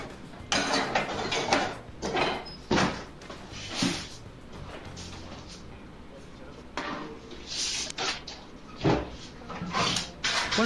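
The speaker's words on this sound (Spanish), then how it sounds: "¿Cuánto tiempo vamos a ver a un tipo revolviendo cajones?" A man rummages through drawers in a Uruguayan film scene, with repeated knocks, slides and clatters of drawers and objects arriving in uneven bursts, and voices talking between them.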